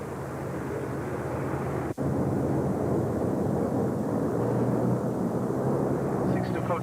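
Airplane engine drone in flight, a steady, loud broadband roar with a brief dropout, heard with a voice speaking over it.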